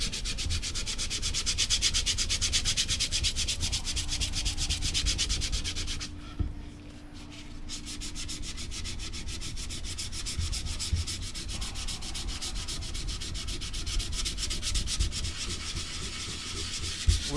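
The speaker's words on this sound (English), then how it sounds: "We're just scuffing up the paint to allow things to stick to it better." Steady, continuous hand sanding scuffs up painted surface on a LAV C2 vehicle build, a close, even rasping rub that runs throughout with one brief pause.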